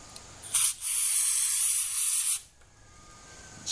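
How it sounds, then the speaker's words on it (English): Carburetor and choke cleaner sprays from an aerosol can onto a Ford 8N tractor carburetor, a short initial burst followed by a steady, loud hiss lasting nearly two seconds before cutting off. "So I take my little can of carb and choke cleaner,"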